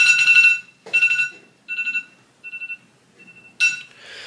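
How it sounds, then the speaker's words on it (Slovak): Electronic alarm clock beeping in short bursts: a long opening beep, then several shorter spaced beeps that fade quieter before a loud final burst, heard alone and fairly close. "super budík pípa"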